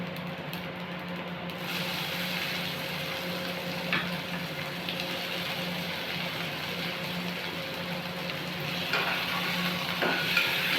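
Garlic and onion frying in oil right after mustard seeds splutter, for a butter beans sundal: a steady, even crackle and sizzle continues throughout at moderate level, with a few brief sharper pops.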